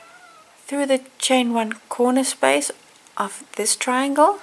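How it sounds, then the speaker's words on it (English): A hungry house cat meows repeatedly nearby, its cries clear and fairly loud while someone speaks steadily over them. "that's my cat, he's complaining"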